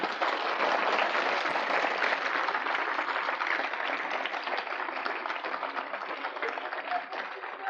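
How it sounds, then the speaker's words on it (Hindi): A crowd at a Raj Rajeshwari sadhana ritual gathering bursts into loud, sustained applause that holds steady for the whole stretch, with no talk over it. "ताली बजाइए आप जोर से।"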